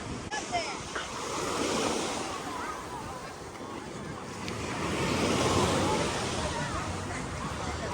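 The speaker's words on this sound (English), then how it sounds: "This is really a beach scene here." Surf rolls onto a crowded Panama City Beach during spring break, a steady roar of breaking waves swelling and easing, with wind buffeting the microphone.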